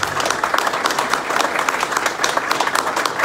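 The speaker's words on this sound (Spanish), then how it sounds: "Este hombre merece miles de aplausos." Lively applause from the audience at an academic tribute event in Honduras, brisk clapping filling the room at a close, fairly loud level with no talk over it.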